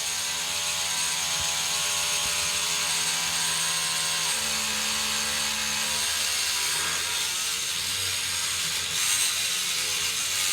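Rubbermaid power scrubber motor pressed hard against a surface, giving a steady close mechanical whir with a ratcheting buzz that dips slightly in pitch as it strains under pressure, heard alone without talk.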